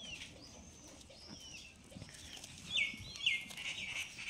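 Rajshahi Giribaj pigeons kept in a cage give faint, distant calls and soft chirps against a quiet, rustling background, with a couple of slightly louder calls near the end.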